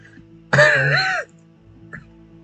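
One short, rough cough lasting under a second, close to the microphone, followed by quiet.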